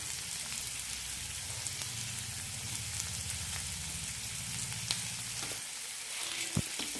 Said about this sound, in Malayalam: ഇനി ഇതിലേക്ക് മൂന്ന് വെളുത്തുള്ളി ഒരു ചെറിയ കഷ്ണം ഇഞ്ചി ഇടാം ചെറിയ പീസുകളാക്കാം